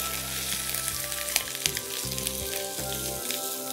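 Spiced chickpea masala for Punjabi chole fries steadily in a pan, with a continuous close sizzle and a few soft stirring knocks, no talking.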